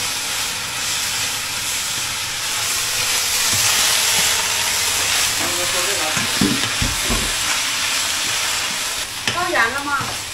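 Food stir-fried in a wok in a home kitchen during a Mid-Autumn family meal, with steady loud sizzling and hissing throughout, stirring scrapes, and people talking briefly near the end.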